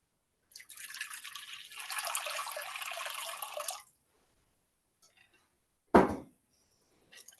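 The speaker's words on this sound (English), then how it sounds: "then all we do is we just add water" Water is poured into a fermentation mix for several seconds as a steady splashing rush, followed after a pause by a single short, sharp splash, with no talk over it.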